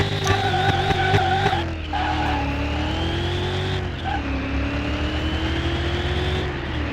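A turbocharged car with a flutter in first gear on a test drive in Car Mechanic Simulator 21: a loud, steady engine whine that shifts pitch, with squealing, skidding tyres throughout.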